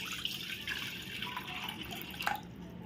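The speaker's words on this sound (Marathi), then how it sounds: "त्याच्यामध्ये आपण हे जे मोजून घेतलेलं पाणी आहे की नाही, टोटल 4 वाट्या, त्यातलंच आपण याच्यामध्ये आधी घालणार आहोत" Four measured cups of water are poured into a pot on a gas stove, giving a steady close trickling and splashing with a brief louder splash near the end and no talking.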